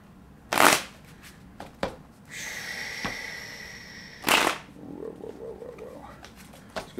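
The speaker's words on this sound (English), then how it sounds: "Let's get three more shuffles." Tarot cards are riffled and shuffled in a few loud, close bursts, separated by quieter handling noises and a brief fluttering bridge.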